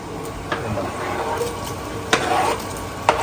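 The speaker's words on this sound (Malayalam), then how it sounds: "അപ്പൊ നമുക്ക് തക്കാളി ഇട്ട് കൊടുക്കാം" Chopped tomatoes sizzle in hot oil as they are stirred into a spicy boatmen-style kalanchi fish chili curry, with steady frying hiss and a few sharp clinks of a spoon against the pan.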